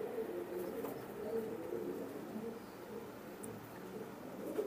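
Chinese teddy pigeons, an imported bloodline pair, give low soft cooing that runs steadily throughout, close by, with faint chirps high above and no talk.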